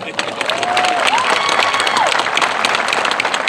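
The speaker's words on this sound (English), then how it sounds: "Now, it's okay to clap for that" Graduation crowd at a 2025 high school commencement breaks into loud, sustained applause with scattered cheers, a dense steady wash of clapping filling the space, and a brief whistle-like tone rising and falling through it.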